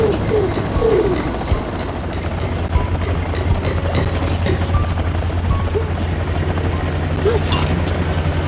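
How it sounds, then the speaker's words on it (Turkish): Helicopters in the Sly Cooper stealth video game hold a steady rotor thrum and mechanical drone throughout, moderately loud, with a few faint chirps and scattered game effects on top. "O helikopterlere görünme Sly."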